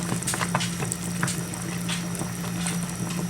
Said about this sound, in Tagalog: Ayan ang ating magulay na sinigang na bangus.